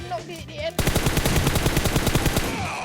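Rapid automatic gunfire in the PUBG Mobile battle royale game, a dense burst of steady repeated shots that starts abruptly and continues loudly after a moment of quieter game sound.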